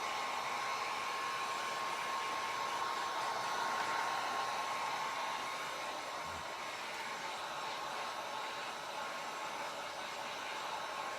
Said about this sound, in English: this is that heat gun that you really don't need, but if you don't mind watching paint dry, just let it dry